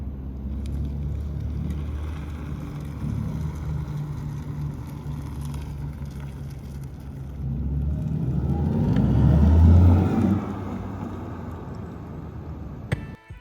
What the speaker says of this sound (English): Audi went out of their way to give the e-tron some sounds so that you'll know when